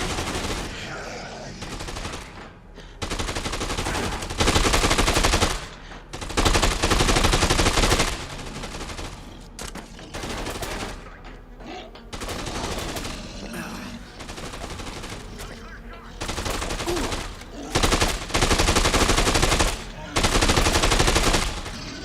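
Gunshots and machine-gun fire from the video game Dead Rising 2, dense loud bursts of rapid automatic fire broken by short gaps, close and intense throughout, with someone talking between bursts.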